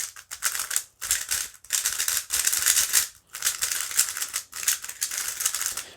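A GTS3 speed cube being turned quickly, producing loud, harsh rattling clicks in dense bursts separated by brief pauses, close up.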